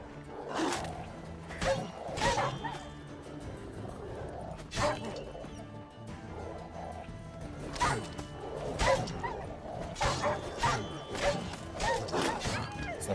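Large dogs barking in The Witcher 3, with repeated loud barks and growls scattered across the scene over busy game ambience.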